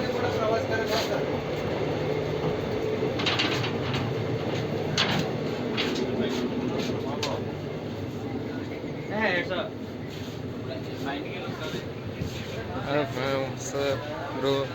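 Passenger train from Pune to Tirupati rolling along, heard from inside as a steady rumble with rhythmic rail clatter and occasional squeals, with people talking nearby over the noise throughout.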